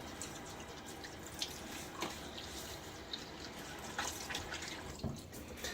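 Water splashing and dripping at a bathroom sink while a man wets his face during a wet shave with a safety razor, a few soft splashes over a steady running tap, alone and close.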